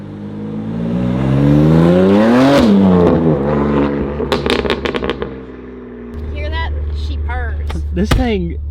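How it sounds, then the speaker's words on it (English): A BMW M2 Competition exhaust revs loud and close, the pitch climbing and falling, then a burst of sharp crackling backfire pops before the engine settles to idle and blips again with more pops. "This thing backfires like crazy."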